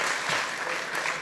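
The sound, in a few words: audience applause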